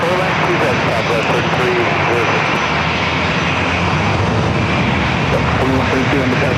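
A Southwest airliner takes off from San Diego airport, its engines making a loud, steady broadband roar that fills the whole stretch with little change in level.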